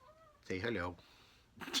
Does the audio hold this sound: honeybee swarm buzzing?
no